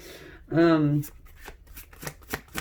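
Tarot cards are shuffled close up in a quick riffle, followed by a few soft taps and card flicks, with a voice speaking around the sounds.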